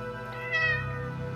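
A pet cat lets out a single drawn-out meow with a rising, bending pitch, close and clear, alone with no talk over it.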